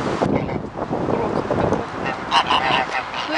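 Aggressive white geese honk on a windy walk outdoors in Belgium, several harsh calls rising over gusty wind noise, with louder honks toward the end; no speech.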